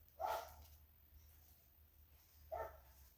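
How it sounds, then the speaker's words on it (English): A dog barks twice outdoors, short distinct woofs about two seconds apart, fairly distant against a low background hum. "The dog's barking loudly now."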